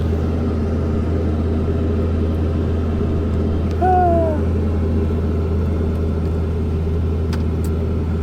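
A broken-down car crawling along in low gear, its engine a steady close droning rumble that runs unbroken throughout, with a brief higher tonal squeal near the middle.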